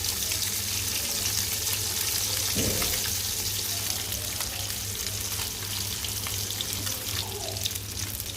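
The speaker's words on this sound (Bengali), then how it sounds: "এখন মাছগুলো ভাজতেছি" Rohu fish pieces fry in hot oil with a loud, continuous sizzle and crackle close by, plus a brief clatter of handling, with nobody speaking.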